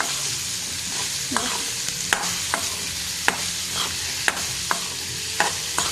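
Onion stir-fry (onion thoran) with green chillies and curry leaves is stirred in a hot pan, giving a steady sizzle broken by repeated sharp scrapes and clinks of the spoon at an uneven rhythm, close by and with no talking.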